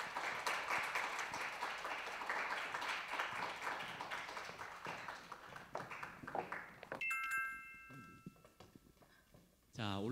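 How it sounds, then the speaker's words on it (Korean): An auditorium audience applauds to welcome the Daewon Girls' High School team onto the stage at the 12th youth mock trial competition, with dense, sustained clapping for several seconds before it fades and a voice speaks over the hall. "대원 여자고등학교 친구들을 박수로 맞아주시면 고맙겠습니다"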